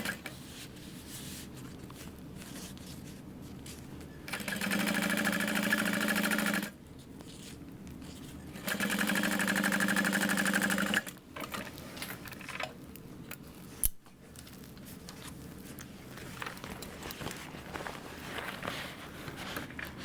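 A sewing machine top stitches through a bulky bag lining seam on a backpack, running in two steady bursts of a couple of seconds each, separated by pauses with light handling sounds.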